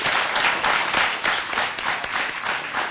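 Audience applause filling the whole stretch, dense sustained clapping from a crowd with a steady loud wash and slight surges.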